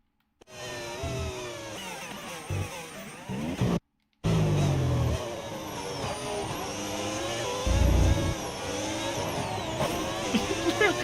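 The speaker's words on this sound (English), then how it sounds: "He literally slams on the brakes. You can actually hear it." An F1 race car in the F1 25 video game brakes hard, its engine note dropping sharply, with a brief cut, then renewed revving and a skidding, downshifting roar that stays loud throughout.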